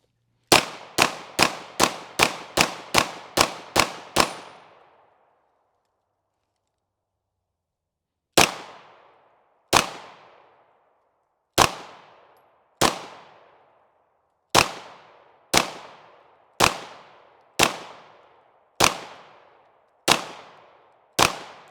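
Gunshots from a Flux Raider pistol setup, a rapid string of eight sharp cracks, a pause of several seconds, then about eleven more evenly spaced shots, loud and close, each with a short decaying ring.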